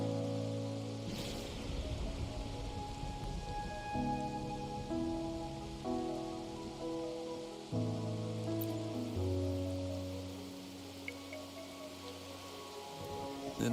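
Rain pours steadily in the video game Wuthering Waves, a soft constant hiss layered under slow, changing music chords, with no one talking.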